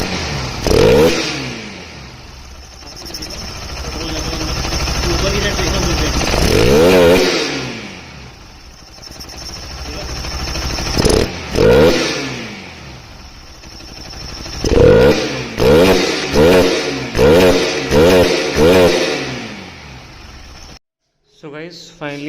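A Bajaj Pulsar RS200 motorcycle engine, after wiring and fuel pump trouble, starts and revs in repeated bursts, rising and falling loudly and close by, with a quick series of sharp throttle blips near the end.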